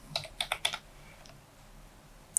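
Computer keyboard typing during an SQL database lecture, entering an ALTER TABLE modify column command: a quick cluster of four or five clicky keystrokes, then a lone tap after a pause, close and fairly quiet.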